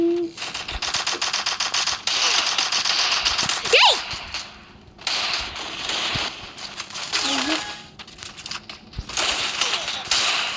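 Rapid bursts of gunfire crackle in the Free Fire video game during sniper play, coming in several rattling volleys with short gaps, while someone talks excitedly over them.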